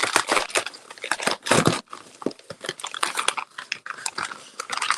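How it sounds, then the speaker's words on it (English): A bubble wrap padded mailer is torn and mangled open by hand, giving a close series of crinkling, ripping and crunching bursts with short pauses between them. "Gonna mangle this here bubble wrap bubble mailer."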